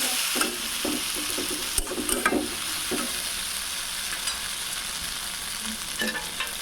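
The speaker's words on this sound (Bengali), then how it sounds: "গ্রেট করা আলুগুলো দিয়ে দেব।" Grated potatoes stirred into hot masala with soybean chunks, frying with a steady sizzle while a spatula scrapes in several quick strokes near the start, then the sizzle runs on alone.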